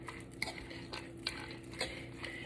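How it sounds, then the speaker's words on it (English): Canned soup with frozen vegetables stirred in a pot, with soft intermittent scrapes and light clinks of a utensil against the metal, quiet and close, with no talking. "you're going to stir everything together"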